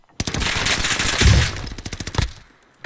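Rapid automatic gunfire rattles in a video game, a loud close burst of shots firing in quick succession for about two seconds before cutting off.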